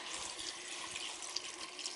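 Salted water, three tablespoons of salt per quart, pours into a kimchi brine, making a steady hissing, splashing flow with small bubbling spikes, faint and continuous throughout with no talk.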